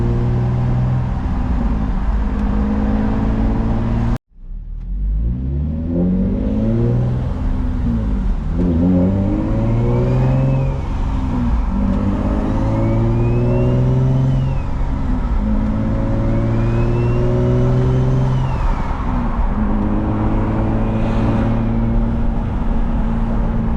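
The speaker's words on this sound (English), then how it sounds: "It's like a full header and Motordyne straight pipe exhaust." A single-turbo Infiniti G35 coupe engine with full header and Motordyne straight pipe exhaust revs up and down repeatedly, rising and falling in pitch with a harsh rasp.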